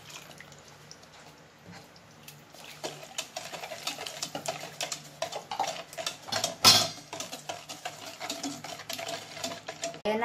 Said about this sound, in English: So, i-whisk lang po natin yan together.